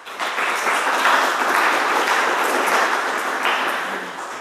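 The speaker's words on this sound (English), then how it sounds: "let's have a round of applause for him" Audience applause at a technical conference talk on Qt 3D basics, a dense, steady wash of many hands clapping that holds for several seconds before tapering slightly.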